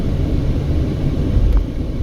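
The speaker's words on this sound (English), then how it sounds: "tourist helicopters up in the air there" Tourist helicopter passing overhead near Stewart and Eastern by Fremont Street in Las Vegas, a steady low rotor and engine rumble that holds at a fairly loud level throughout, with no talk.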